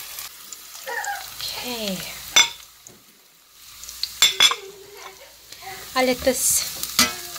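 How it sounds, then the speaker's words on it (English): Onion, garlic and ginger sauté in a pan as dry spices go in, with sizzling broken by sharp utensil scrapes and clinks against the pan, and a brief spoken phrase partway through. "So my onion, garlic, and ginger mixture has been sauteing for 2 minutes."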